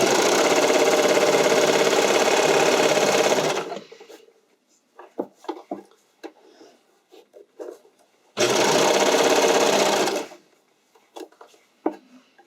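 A sewing machine stitches elastic into a garment neckline in two loud, steady runs of about three to four seconds each, with quiet handling taps and fabric rustles in between.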